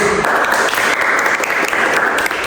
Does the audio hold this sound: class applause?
yes